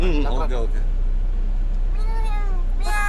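During a game of dumb charades, a person mimics a cat's meow, a short wavering mew at the start, a pause, then two more drawn-out meowing calls over steady background hum.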